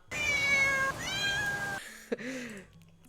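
A cat meows loudly twice in long, drawn-out calls, then gives a shorter, higher meow after a brief pause.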